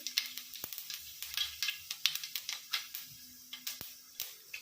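Fennel seeds crackle and sizzle in hot oil in a kadai, a quiet run of sharp irregular pops and spits over a faint hiss, with no talking.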